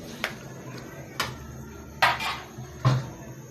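A metal lid clatters onto a pot of pork stew, with a few sharp clinks and knocks spaced about a second apart, close and fairly loud, the last one heavier as it settles.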